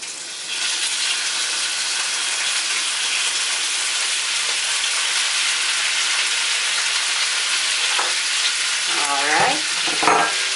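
Beef stew meat, chopped bite-size, frying in a thin layer of oil makes a loud, steady hiss that fills the whole stretch, with a brief spoken word and some stirring near the end.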